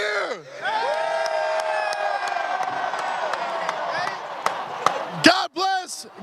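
Seattle fans celebrate the Super Bowl champion Seahawks, with cheering, whoops and shouts rising over a loud voice on a public address, and bursts of excited yelling toward the end.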